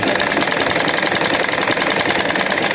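Sewing machine running continuously as it stitches a seam, a steady loud mechanical whir and rattle with no breaks and no speech.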